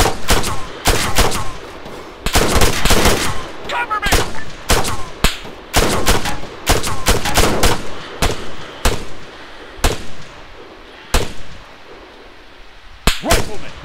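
Bursts of machine gun fire in the military shooter Arma 3 crack out repeatedly in loud, sharp volleys with short gaps between them, a few shouted voices faintly underneath.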